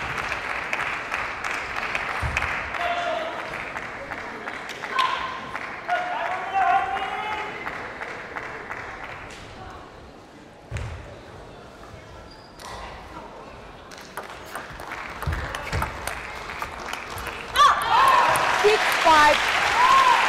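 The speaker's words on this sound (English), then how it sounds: "Each point, of course, from the Korean player applauded by the great audience in Incheon" A crowd applauds a point at the 2013 Korea Open women's singles quarterfinal badminton match in Incheon, with a bright burst of clapping near the end while commentary runs over the hall noise.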